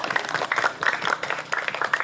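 People at a company outing in Malino applaud the organizing committee. The clapping is brisk and lively from a modest group, with crisp, scattered hand claps that hold steady throughout.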